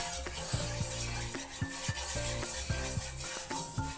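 Oil is spread across a hot iron tawa, a soft sizzling rub with repeated scraping strokes and light metallic taps at an even, close pace, with no talking.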